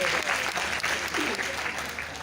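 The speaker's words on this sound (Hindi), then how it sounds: "इनके लिए तालियां बनाइए सर।" Applause from an audience at an Ayurveda lecture, a short burst of clapping that overlaps with a voice.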